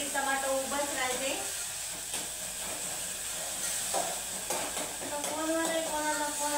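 Tomatoes fry in hot oil in a pan while khichdi is being made, giving a steady hiss and sizzle across the whole clip, with a voice speaking over it now and then.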